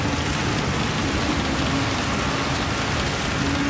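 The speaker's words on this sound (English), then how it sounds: "JP77, good lord, the rain." Steady, dense rain hiss from a wet race in a racing video game, loud and continuous across the whole stretch with no voices.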